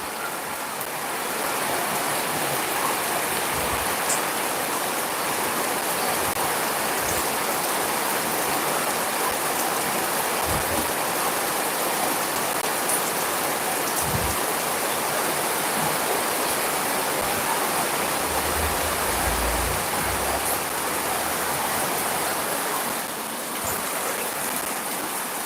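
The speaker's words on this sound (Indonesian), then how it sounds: "mulai lagi agak deras hujannya" Heavy rain pours steadily at night, with water running from a spout, a dense unbroken roar of falling water lasting throughout with occasional faint knocks beneath.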